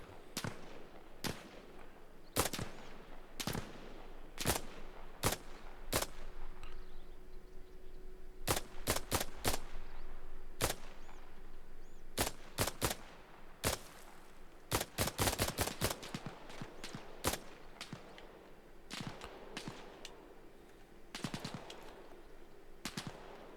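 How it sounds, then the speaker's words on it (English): Gunfire in Arma Reforger on the large Everon map: sharp single shots and short bursts cracking at irregular intervals, some clustered rapid volleys, mostly at moderate distance over a quiet outdoor background. "Somebody else is shooting."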